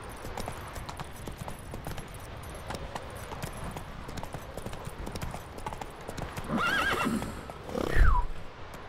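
Hooves clip-clop in a steady rhythm as a horse is ridden along a path in The Witcher 3, ending with a loud whinny and snort up close.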